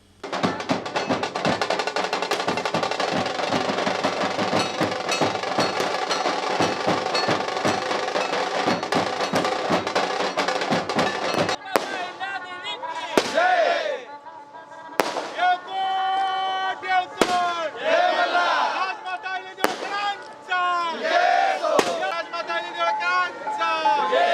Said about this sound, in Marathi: हलगी आणि फटाक्यांची आतशबाजी करण्यात आली